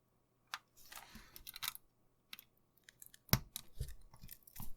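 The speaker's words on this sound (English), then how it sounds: "I need my chip pin straightener. I'm going to straighten the pins so it'll fit the socket well." A chip pin straightener working on an IC's pins during a battery-damaged Macintosh SE FDHD logic board repair: faint, scattered clicks and scraping taps, a sharper snap near the middle, quiet between, no voices.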